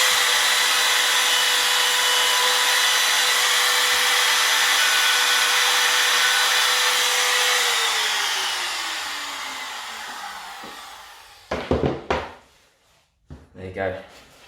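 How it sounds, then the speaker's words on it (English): Power tool cutter working notches into a wooden shelf jig, a loud sustained whine that winds down and fades, followed by a few short knocks and scrapes. "the centre of your cutter needs to follow that line there to give you the exact placement of that notch."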